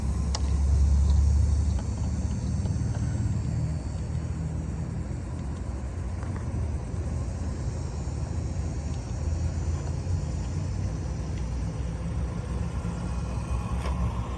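A 1985 Nikko Pontiac Firebird 1/10-scale RC toy car drives with a steady electric motor whine over a low rumble. The sound is continuous and moderately faint, with no talking.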